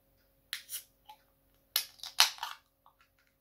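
A can of Tiny Rebel Easy Livin' pale session beer is cracked open: a few quiet, sharp clicks and snapping pops come in short bursts, with a brief fizzy hiss and no talking.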